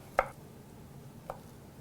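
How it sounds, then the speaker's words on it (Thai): A knife cuts through an onion on a cutting board, slicing it into thick strips while fettuccine with squid in curry sauce is being prepared. Two crisp, close knife strikes land about a second apart in an otherwise quiet kitchen. "ใส่หอมใหญ่ด้วยนะฮะผมจะซอยให้เป็นเส้นใหญ่ๆ ประมาณนี้นะครับ"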